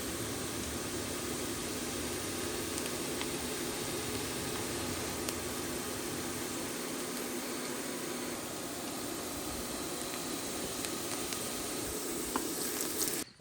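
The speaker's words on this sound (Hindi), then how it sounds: "इसके लिए मैं आधा प्याज यहाँ पे भून लेता हूँ" Half an onion fries in a pan for a Goan fish ambot tik curry, giving a steady, even sizzle with a constant hiss and faint crackles throughout and no voices.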